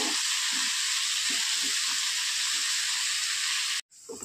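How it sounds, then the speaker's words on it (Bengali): Maggi noodles and vegetables fry in a pan with a continuous close hiss and sizzle and a few soft stirring taps, then cut off abruptly near the end. "তো এবার ম্যাগিটাকে ভেজিটেবলগুলো খুব ভালো করে আমি ভেজে নেব"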